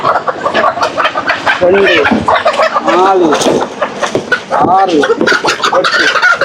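Eight chickens cluck and call loudly up close while people talk over them.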